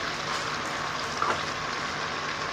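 Biryani spices such as nutmeg, mace, black pepper, garam masala and chili powder frying in a pan, producing a steady even sizzle up close with no talking.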